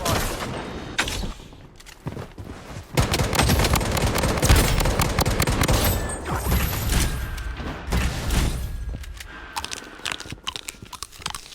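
Rapid gunfire in the battle royale shooter Bloodstrike, dense bursts of automatic shots rattling continuously at moderate loudness, with a few sharper single cracks near the end.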